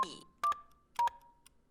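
Telephone keypad tones in a video game about averting nuclear war: a few short electronic dial beeps pressed one after another, each trailing into a faint ringing tone, with quiet gaps between.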